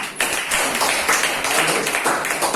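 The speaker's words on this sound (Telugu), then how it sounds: "ఇంకొకసారి మీకు చప్పట్లు కొట్టండి." A church congregation at Sunday worship claps hands together, a dense, loud round of overlapping claps with no voices over it.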